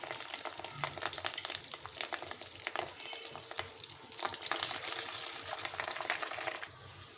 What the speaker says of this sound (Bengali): তেল গরম হয়ে গেছে এবার ভেজে নেব মাছের ডিমগুলো